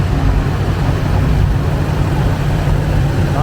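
A Minneapolis Moline propane tractor engine runs at an antique tractor parade, a dense, steady low rumble close by with a continuous rough churn and no clear pauses.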